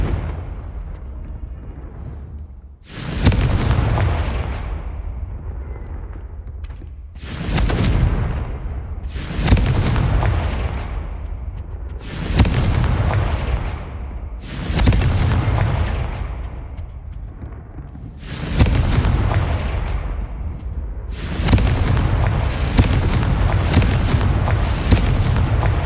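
Confringo fire spells blasting repeatedly in the video game Hogwarts Legacy, about seven loud booming explosions spaced a few seconds apart, each trailing into a rumbling decay, with no talking.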